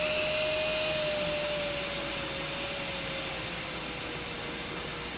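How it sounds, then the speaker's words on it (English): A cheap M18-compatible brushless air blower runs alone at a steady whine with broadband rushing air, its pitch sagging slightly as the power supply voltage is lowered. "we'll just show you where the super blower turns off at"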